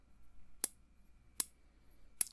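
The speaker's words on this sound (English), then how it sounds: "They work really well as scissors, but I actually like them best for energy work." A pair of vintage copper scissors snips three times in a quiet room, each cut a crisp, close metallic click, evenly spaced with near silence between.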